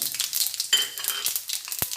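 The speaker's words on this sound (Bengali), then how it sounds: "ফোড়নটা ভাজা হয়ে গেছে" Panch phoron spices and dried red chilies crackling in hot oil, a bright continuous sizzle with a couple of utensil clinks, close and fairly loud, no talking.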